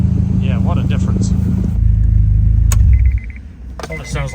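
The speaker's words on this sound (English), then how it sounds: "it sounds like a race car, no exhaust" A Honda S2000 engine runs with no exhaust, giving a loud, raw, rumbling idle. Someone talks over it, then the engine drops away abruptly near the end.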